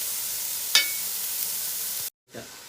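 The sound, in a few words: onions frying in a pan with salt for chicken curry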